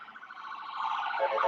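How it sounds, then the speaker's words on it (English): An ambulance siren wails faint and distant, a steady rising tone heard for a brief moment with no talk over it. "It's another ambulance."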